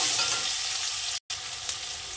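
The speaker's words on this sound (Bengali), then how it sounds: "পেঁয়াজ কুচিটা আমি একটু হালকা ভেজে নেব।" Chopped onion fries lightly in hot oil with black cumin seeds, a steady close hiss and sizzle with a momentary dropout midway and a brief crackle after.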